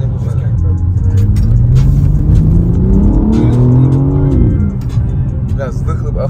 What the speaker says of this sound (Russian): Да, выхлоп охуенно. Даже ничего делать не надо с ним.